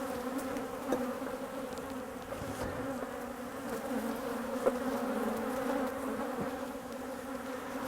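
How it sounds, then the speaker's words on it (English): A steady buzzing drone of many honeybees flying around a hive during swarm prevention work, continuous and fairly close, with occasional individual bees passing nearer the microphone. "It will help me if the flying bees are leaving there and coming back to the new location anyway"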